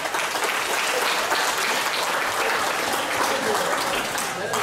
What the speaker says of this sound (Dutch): Dames en heren, eerst een applaus voor deze twee enorme strijders.